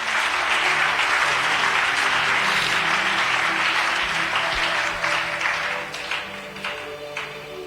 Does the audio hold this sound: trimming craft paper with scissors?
no